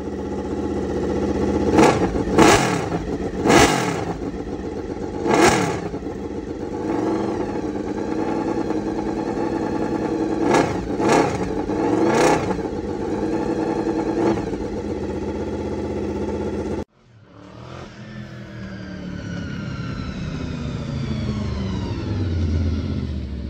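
A motorcycle engine, a second bike brought nearly back to life, revs in several sharp bursts over a rough idle, then settles after a brief cut into a steadier running note, close and loud.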